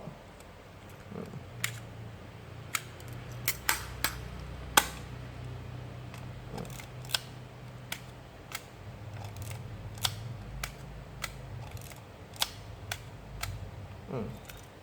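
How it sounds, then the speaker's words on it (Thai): A Canon QL17 III rangefinder film camera being handled, its shutter cocked and fired: a steady run of sharp, dry mechanical clicks and snaps spaced across the span, close and crisp over a low background hum. "ถ้าขึ้นชัตเตอร์อีกที ตัวกลไกก็จะเด้งกลับมา ตัวหนามเตยก็จะถูกล็อก"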